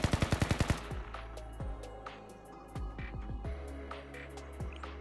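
Rapid bursts of gunfire in the video game Blue Archive: a fast string of about eight loud automatic shots, then scattered single shots and impacts over a steady game background hum.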